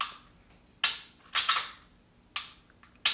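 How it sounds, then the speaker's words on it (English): Glock pistol dry-fired, with the trigger clicking sharply as it breaks and resets, four or five close, crisp metallic clicks at uneven intervals, loud and alone against a quiet background. "So you let your finger off the trigger until you hear that click. That's the reset on the trigger"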